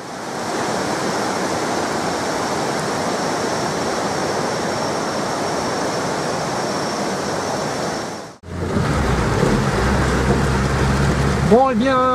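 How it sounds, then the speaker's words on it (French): Heavy, steady rain pours down onto a small path outdoors, a dense hissing wash that cuts out abruptly and then resumes with a faint voice-like sound near the end. "nous y sommes, sous la pluie, une bonne pluie qui mouille"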